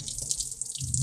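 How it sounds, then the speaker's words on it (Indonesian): Water splashes and trickles as it is poured over a body during a ritual washing, a close, steady running stream with faint dripping and no talking. "Mayatnya setelah itu kita siram 3 kali."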